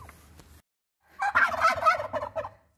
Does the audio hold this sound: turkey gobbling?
yes